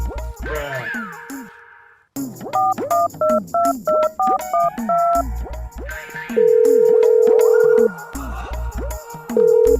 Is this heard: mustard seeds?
no